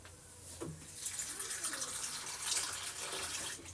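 Water pours briefly onto half a bowl of dry poha to soak it, a short steady splashing stream alone at close range with no talk.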